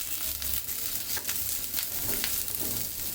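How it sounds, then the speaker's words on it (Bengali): Onion fries in hot oil in a pan, a loud, continuous crackling sizzle up close with brief bursts of spattering and occasional stirring scrapes; no voices. "পেঁয়াজটা একটু হালকা ভাজা হলেই নামিয়ে নিব"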